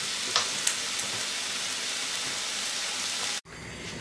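Boiled mushrooms fry in a pan with a steady, fairly loud crackling sizzle, a couple of faint clicks early on, then a sudden cut and a slightly changed hiss at the end.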